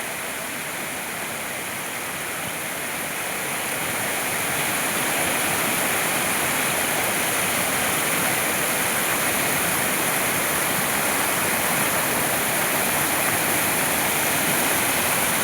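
Steady, loud rushing of flowing river water fills the whole stretch, a dense continuous roar that swells slightly early on and then holds constant.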